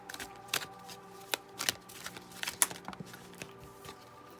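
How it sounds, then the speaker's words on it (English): A deck of tarot cards being shuffled up close, with rapid riffling and flicking bursts and sharp card snaps repeating irregularly over a faint steady tone, with no voice. "I'm going to shuffle again"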